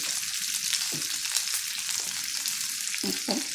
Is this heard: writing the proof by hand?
no